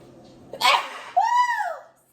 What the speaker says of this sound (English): If you ain't sneezing, you ain't seasoning.